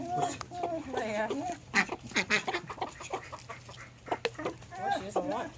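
Chickens, a turkey and a duck feed on watermelon pieces nearby, with clucks, quacks and soft pecking mixed in, while a person talks intermittently close by.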